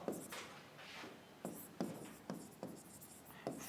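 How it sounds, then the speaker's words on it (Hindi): Chalk or marker strokes scratch across a classroom board in short, irregular bursts, quiet and close, with small taps between the strokes. "अब यहां पे लिखेंगे जावा"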